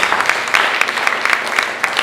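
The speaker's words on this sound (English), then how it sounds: "I need you to give a resounding round of applause to our lecturer" Applause from an audience at a capacity-building workshop for teachers, a steady patter of many hands clapping at close range with no talk over it.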